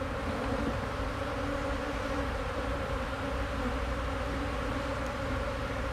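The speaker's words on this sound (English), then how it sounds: "We're gonna smoke these bees down" Honey bees buzz steadily around a hive frame, a dense, continuous hum that stays close and even throughout, with no voices.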